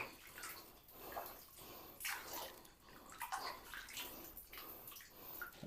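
Continuous rushing and splashing of flowing water, fairly faint, with fluctuating gurgles and no voices.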